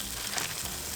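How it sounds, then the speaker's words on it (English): Marinated food drops into a preheated air fryer and sizzles briefly, a soft steady hiss heard close and quiet with no voices. "We definitely want the air fryer preheated so we get this nice little sizzle."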